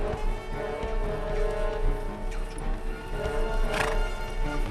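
Horses whinny loudly over a steady rumble of hooves, with a sharp neigh near the end and no talking.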